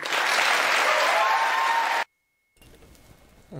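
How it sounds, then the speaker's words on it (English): Standing ovation applause at a town hall, a loud, dense wash of clapping that cuts off abruptly, followed by a near silence and then faint talking. "She got a standing ovation. She did get a standing ovation for that. A lot of applause."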